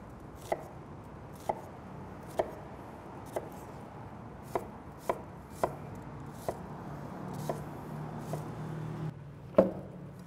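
Red onion being diced with a knife on a cutting board: evenly spaced sharp chops, about one per second, close and fairly quiet, with a louder knock near the end and no talking.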